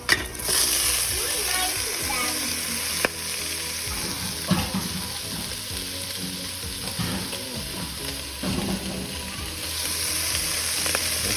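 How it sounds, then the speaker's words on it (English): Ground turkey frying in rendered bacon fat and being stirred in the pan gives a loud, continuous sizzle with scraping stir noises. A brief clink near the start is followed by steady crackling throughout. "We're gonna go ahead and add back in our turkey."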